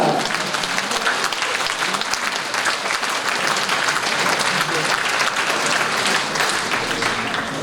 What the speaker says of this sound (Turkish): Alkışlıyoruz dostlar, alkışlıyoruz.